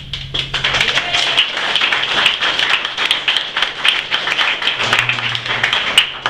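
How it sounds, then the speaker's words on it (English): An audience claps steadily at a boxing club opening, a dense, continuous patter of many hands that stays fairly loud throughout with no voices over it. "You guys don't even know why you're clapping yet."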